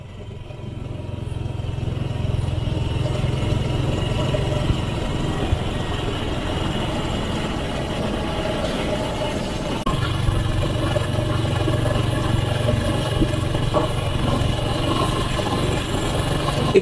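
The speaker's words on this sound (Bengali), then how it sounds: "হয়তো বাইকটা চালাই না বলে হঠাৎ হঠাৎ করে আরপিএম বেড়ে যাচ্ছে।" A motorbike engine runs steadily and loudly at close range, its rpm rising and falling unevenly on its own, with a noticeable shift partway through, on a chilly winter night during a road trip.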